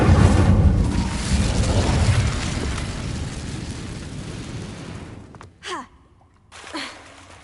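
A fiery burst from the Incendio spell in Hogwarts Legacy erupts as a loud whooshing blast that roars and slowly fades. Two brief sharp effects follow once it dies down.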